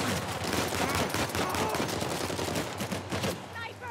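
Sniper and rapid gunfire in the video game Uncharted 4 crackle densely and loudly in a continuous fusillade of shots.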